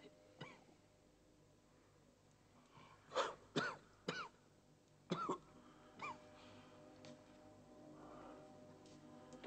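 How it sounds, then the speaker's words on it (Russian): A person coughs on request during a medical examination, several short, sharp coughs in a quiet room, spaced apart with brief pauses between them. "Покашляйте."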